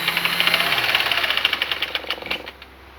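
A small electric motor that sat unused for days and now runs hot, with dirt lodged inside, rattles and knocks in a steady rapid rhythm for about two seconds before winding down and going quiet.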